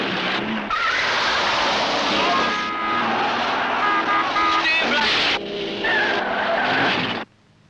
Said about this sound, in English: alpine site for a film sequence of car racing on ice